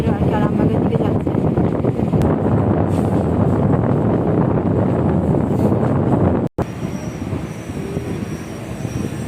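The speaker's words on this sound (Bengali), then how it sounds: "মায়াপুর স্টেশন ছাড়লো, আমাদের আর কি আরামবাগের দিকে যাচ্ছে।" A train pulls out of Mayapur station with a dense, steady roar of wheels on rails and wind buffeting, loud and close from inside, broken by a brief dropout.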